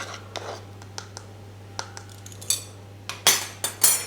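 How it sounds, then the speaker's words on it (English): A mixing spoon stirs hot water into ingredients in a bowl for ANZAC biscuits, producing a series of sharp clinks and scrapes. They start sparse, then grow louder and closer together toward the end, over a low steady hum. "just use your mixing spoons to mix that together"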